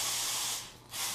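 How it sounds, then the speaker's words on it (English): Silicone spray hisses from a can as it coats a loose hose hanging free: a steady, loud, close hiss that briefly eases off before resuming at full strength. "just let it hang and spray and just get the silicone all over it and just let it dry"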